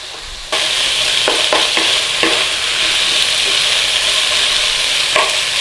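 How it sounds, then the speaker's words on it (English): Onions are stir fried quickly in a pan for Thai chicken and cashew nuts, with a loud, bright sizzle that flares up suddenly and holds steady, marked by a few scraping stirs. "we just need to stir fry them round very quickly"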